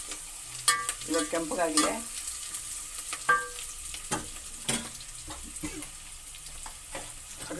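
Potatoes drop into a pan of onions already browned in oil, setting off a sharp burst of sizzling and stirring clatter, then a steady fry with occasional utensil scrapes. A voice speaks briefly.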